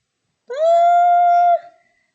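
Lilo the dog lets out a single sustained howl lasting about a second, clear and close with a steady pitch, then trails off into silence.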